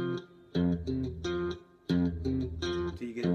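Electric guitar playing a riff one note at a time, short plucked notes in the familiar rhythmic groups with brief pauses, close and clear with no talking.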